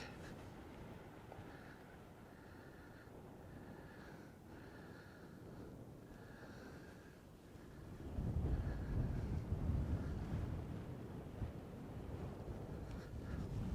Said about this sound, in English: There's a lot of wind out here, so hopefully the fur on this microphone cancels all that noise out.